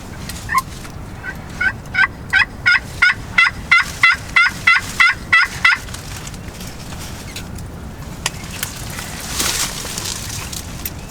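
A wild turkey gobbles during a self-filmed Illinois spring turkey hunt: a run of about a dozen evenly spaced yelping calls, moderately loud and fairly near, followed by quiet outdoor background.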